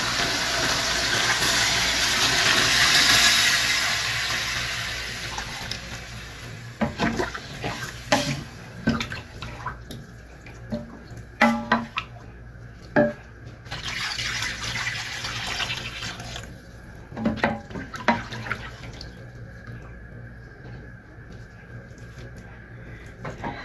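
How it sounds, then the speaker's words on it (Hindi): Water pours into a pot of frying chicken for Saudi kabsa, a rushing splash for the first few seconds, then fading into softer trickles and scattered clanks of the pot and utensils nearby. "अब इसके अंदर पानी डाल देते हैं।"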